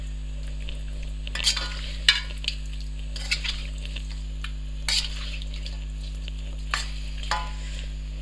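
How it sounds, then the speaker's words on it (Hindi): Chicken fries in butter in a karahi, giving a constant close sizzle over a low hum, with spatula stirs and scrapes striking the pan every second or so; no one speaks. "देखिए बटर में हम इसको फ्राई कर रहे हैं"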